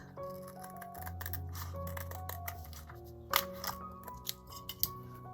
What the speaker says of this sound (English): So I'm just going to cut a strip of tiles